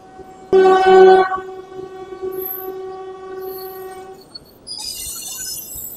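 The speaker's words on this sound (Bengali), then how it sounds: "একদিক দিয়ে মালগাড়ি যাচ্ছে আর একদিক দিয়ে লোকাল ট্রেন আসছে।" At a railway level crossing, a freight train and a local train pass. A loud train horn blasts near the start, then a sustained tone and rolling train rumble follow.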